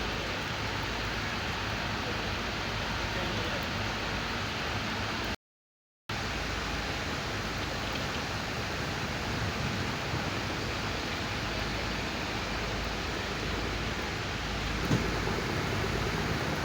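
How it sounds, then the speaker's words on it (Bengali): Heavy rain pours down at a river launch ghat as a dense, steady hiss that fills the whole stretch, broken by a brief silent gap near the middle. "বৃষ্টিতে কিছু দেখা যাচ্ছে না, অনেক বৃষ্টি।"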